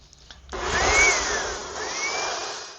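A donated electric air blower starts up after a brief pause and runs steadily nearby, a loud whooshing roar with a slight whine that rises and dips, used during wheel painting on a Lancer.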